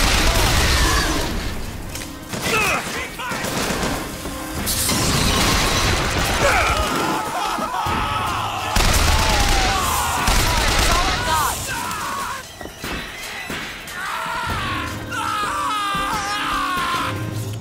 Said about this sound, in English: someone's out there with some big weapons for darn sure